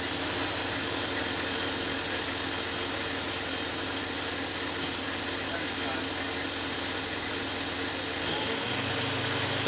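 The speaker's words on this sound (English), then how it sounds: "Top speed of the spindle." Spindle of a 1996 Haas HS-1 CNC horizontal machining center running at speed, a loud steady high whine that rises in pitch near the end as it spins up to top speed.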